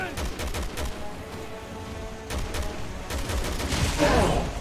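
Rapid volleys of gunfire from Resident Evil 6 crack out in repeated clusters of shots, loud and close, with the intensity building toward the end.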